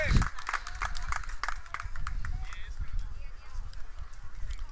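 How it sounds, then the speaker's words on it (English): Light applause for the umpire at a youth baseball game between Pro Youth Foundation and Southwest Florida Elite, a spatter of claps from the stands running steadily under a commentator's voice. "And a little applause there for the umpire."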